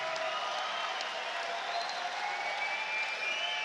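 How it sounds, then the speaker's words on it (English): Steady crowd applause and cheering at a mixed martial arts cage fight after a bout ends, a continuous moderate roar of clapping with some raised voices in the arena. "Ladies and gentlemen, a round of applause, please, for both of the fighters in this cage."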